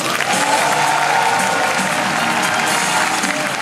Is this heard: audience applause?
yes